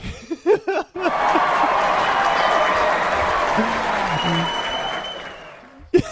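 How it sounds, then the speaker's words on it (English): A button fires a canned crowd cheering and applause effect in a podcast studio. It starts abruptly after a short burst of voices and holds as one loud, steady wash of cheering before cutting off, with a voice returning at the very end. "Hit the button that makes all the cheering happen."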